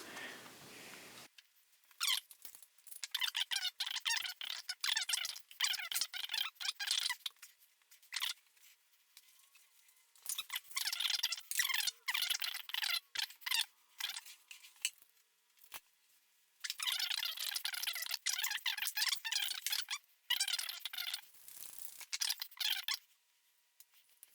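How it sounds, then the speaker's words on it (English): A cleaning rod with a jag pushes a patch back and forth through a 1911 pistol barrel, giving close, bright scraping strokes in three bursts separated by short pauses, with no voices. "I'm going to go ahead and get the cleaning rod, screw the jag onto the end of it like this, and I'll get a patch and push it on through"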